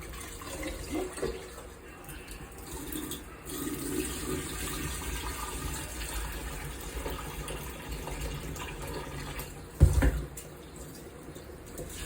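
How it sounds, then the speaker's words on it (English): Brown rice is washed in water at a kitchen sink, with continuous running and sloshing water throughout and a brief louder splash near the end. "So we have to wash the rice properly."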